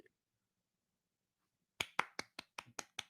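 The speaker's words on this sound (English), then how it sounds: "Golf clap." After a long silence, seven soft, evenly spaced claps patter out in a slow, steady rhythm, close by and fairly quiet.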